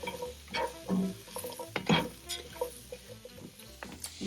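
Onions and carrots for a goat stew are stirred in a pot, giving soft scraping and clinking strokes with a faint sizzle underneath, close and fairly quiet.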